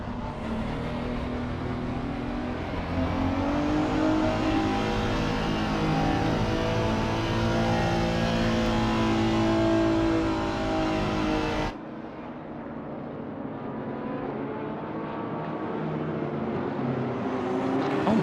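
A GT3 race car engine at Kyalami in a PC racing game holds a loud, sustained high-revving drone that climbs steadily, then cuts abruptly to a lower, quieter engine tone near the end, with no talk.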